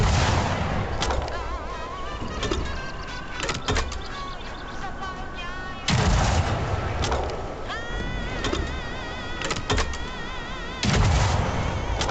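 Rocket launcher firing in Atomic Heart, heard as three loud broadband blasts spaced a few seconds apart over busy game sound with whooshing and metallic tones between shots.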